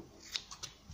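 Scissors snip through felt pieces for a hair band, a few quiet, close crisp cuts spaced over a second in an otherwise hushed room.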